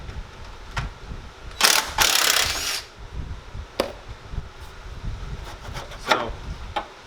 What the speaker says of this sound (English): now we're going to go ahead and take out the number 10 screws